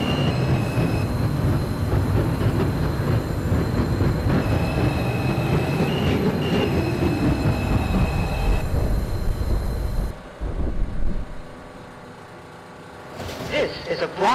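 A New York City subway 2 express train, Bronx-bound, rumbles steadily along the tracks with a faint high squeal of wheels, then slows and quiets near the end.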